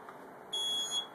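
A Kidde smoke detector under test lets out a loud, piercing high-pitched alarm tone partway through, after a moment of quiet room noise.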